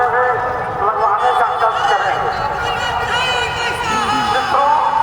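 A large crowd of BJP supporters mills at a rally in Wazirganj, a dense continuous babble of many voices and shouts filling the space at a steady loud level throughout.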